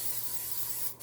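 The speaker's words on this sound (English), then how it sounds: "You'll want to spray it pretty liberally." Pan spray hissing onto a bread pan for whole wheat bread, one continuous close spray lasting about a second and then cutting off.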